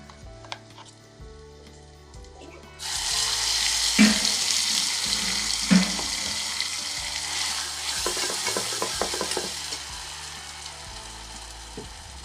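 Ground spice paste goes into a hot pan of radish curry and sizzles loudly, with spoon scrapes and stirring clinks over the frying hiss after a quieter start.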